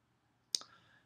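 A single sharp mouse click on a computer quiz's submit button, close and clear against a quiet background, with a short soft tail after it.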